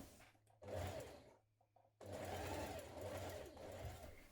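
A sewing machine basting across the top of a shirt back, a short run, a brief stop with faint clicks, then a longer steady stitching run close by.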